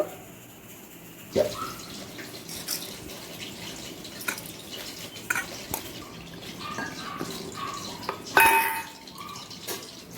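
Masoor dal lentils are rinsed in water in a metal pot, with soft splashes, dripping and occasional clinks and knocks against the vessel, fairly close and fairly quiet.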